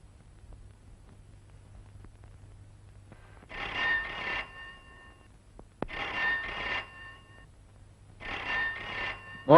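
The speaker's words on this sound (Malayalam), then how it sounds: "മോളെ സഫിയ, ആ ഫോൺ എടുക്ക്." A telephone rings in a household, three loud bursts of electronic ringing separated by short pauses against a quiet room.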